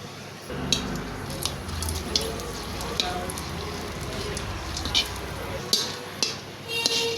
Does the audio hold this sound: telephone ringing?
no